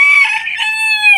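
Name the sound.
bantam chicken crowing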